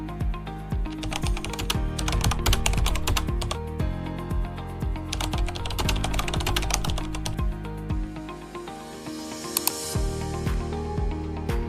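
Rapid close clicking of keys on a computer keyboard as a username and password are typed in, a busy run of taps easing into a few sparser clicks.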